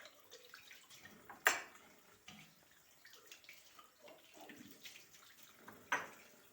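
Lukewarm well water runs from a tap while dishes are washed by hand, a close continuous splashing stream with occasional clinks and louder splashes, no talking.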